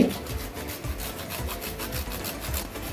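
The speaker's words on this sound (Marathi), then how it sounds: "हे थोडस जायफळ किसून टाकते" Nutmeg grated for steamed ukadiche modak filling, a steady close rasping with regular back-and-forth scraping strokes throughout, fairly loud and alone.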